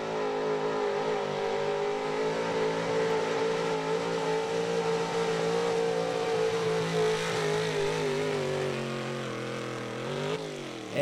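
A pulling truck's engine roars through a truck pull run at a truck and tractor pull, loud and sustained with a steady high drone, easing off near the end.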